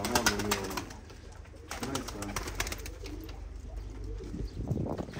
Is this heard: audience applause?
no